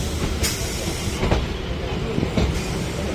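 Train rolling into Sealdah station in Kolkata, a steady rumbling hiss of wheels and carriages with a few sharp clacks over rail joints, close and continuous.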